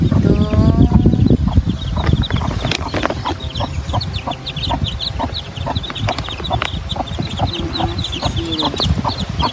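Hens cluck steadily in a farmyard, with repeated short calls near and far over a busy, continuous background of fowl noise that stays loud throughout.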